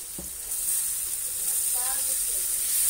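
Tomatoes dropped into a pan of onion and capsicum set off a steady, fairly loud sizzle that builds over a few seconds, with a brief stir partway through and faint voice in the background.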